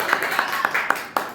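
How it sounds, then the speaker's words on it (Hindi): A church congregation claps hands in a quick, even rhythm of about six claps, moderately loud in a reverberant room. "ताली बजा के हम प्रभु के नाम"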